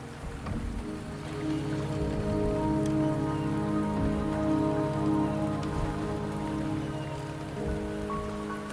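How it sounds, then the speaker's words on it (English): Steady rain patters on surfaces in the video game Wuthering Waves, a dense, continuous hiss at moderate loudness with no talking. "The rain is subsiding, and the sky will soon clear."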